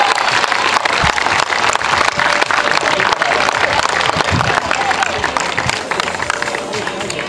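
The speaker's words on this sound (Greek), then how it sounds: "Χειροκροτήστε τον κύριο Γεωργομάνο." A crowd applauds an athlete at a para athletics meet with thick, sustained clapping, loud and close. It runs unbroken for several seconds and eases slightly toward the end.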